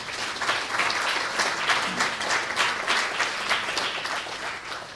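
Sustained, even applause from an audience at a professorial inaugural lecture in a university hall, a dense continuous wash of many hands clapping at steady loudness throughout, with no voices over it.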